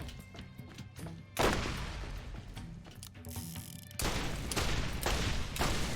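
Borderlands weapons fire in dense, loud automatic bursts mixed with mechanical clanks and ratcheting, sustained over several seconds with brief pauses between volleys.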